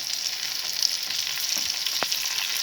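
White hake pieces frying in hot oil and being turned over with a spoon, a bright, constant crackling sizzle with one sharp tap near the end and no talk.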